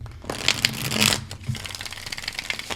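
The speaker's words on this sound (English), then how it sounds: "I don't like broken shuffling." Tarot cards are shuffled by hand, giving quick irregular riffles and papery slaps in short bursts, close up and alone.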